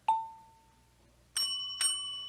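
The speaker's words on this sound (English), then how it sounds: "when she hears the call bell" A store call bell rings twice: one clear ding that decays slowly, then after a pause two more bright metallic strikes close together, near and distinct against a quiet room.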